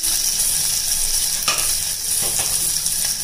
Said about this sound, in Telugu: ఇదిగోండి ఉల్లిపాయలు వేసేస్తుంది.